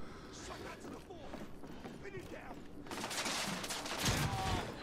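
Gunfire from the video game The Order: 1886 crackles in bursts, with a dense louder volley in the second half, while a player talks over the action.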